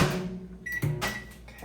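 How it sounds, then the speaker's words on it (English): A microwave oven heats cheese up close. A steady low hum runs under a few clicks and a brief beep, with no talking. "Now, put it back in the microwave."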